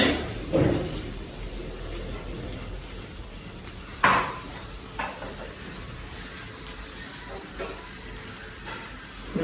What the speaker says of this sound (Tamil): நிதானமான தீல வச்சு ஓரளவு கொஞ்சம் வதக்கிறது